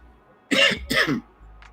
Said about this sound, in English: I think I have a little cough.